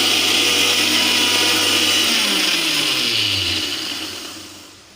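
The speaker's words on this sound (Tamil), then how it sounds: "தண்ணி ஊற்றி அரைச்சிக்கலாம் நம்ம" A blender grinds homemade natural soap ingredients with water, giving a loud, steady, close-up whir that winds down in pitch and volume near the end.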